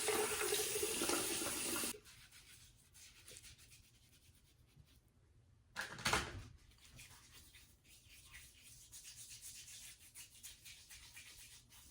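A bathroom tap runs loudly for about two seconds, then cuts off. Quieter splashing and rubbing follow as water is scooped onto a face before shaving, with a brief louder splash partway through.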